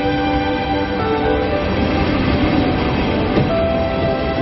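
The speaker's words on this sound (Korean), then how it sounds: "종착역을 향해 다시 열차가 움직이기 시작합니다." Trans-Siberian passenger train starting to move away from a station, a steady low rumble and rolling rail noise with faint tonal hum, continuous and fairly close, no talking.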